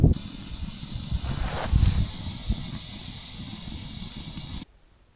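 Snow melting on a campfire during a winter canoe trip gives off a steady, close hiss that swells briefly near the start and then cuts off abruptly near the end.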